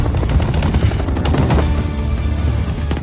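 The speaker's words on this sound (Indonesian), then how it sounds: "helikopter kembali muncul dan menembaki mereka" Gunfire from a helicopter in a film: loud rapid machine-gun bursts with sharp repeated shots and booming low end, continuous over the whole span, no voices.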